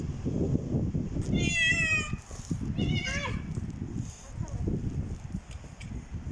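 Two high, wavering cat meows close by, over a background of loud human chatter and laughter, outdoors in the snow in Istanbul.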